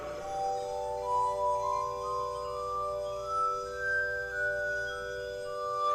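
A glass harmonica plays in a concert, giving pure, sustained ringing tones that glide slowly between pitches and blend into soft, shimmering chords, heard clearly on its own.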